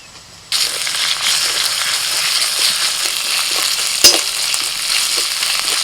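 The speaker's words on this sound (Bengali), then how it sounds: "পেঁয়াজ অর্ধেক ভাজা হলে দিয়ে দিচ্ছি আদা রসুন বাটা" Ginger garlic paste drops into a wok of half-fried onions, setting off a sudden loud sizzle that holds steady and close, with light stirring and one sharp knock of a utensil near the end.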